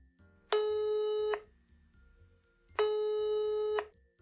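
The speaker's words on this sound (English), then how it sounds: "Tom's phone rang" Two long electronic telephone rings, each about a second, separated by a pause, clear and fairly close over a quiet background with faint low murmuring.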